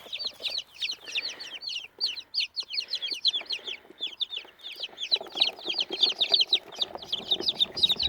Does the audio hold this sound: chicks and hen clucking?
yes